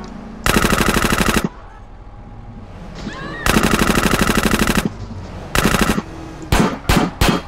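Automatic gunfire in the video game GTA: long loud machine-gun bursts separated by pauses, then several short sharp bursts near the end, with the game's background sound between them.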